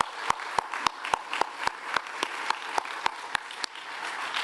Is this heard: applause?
yes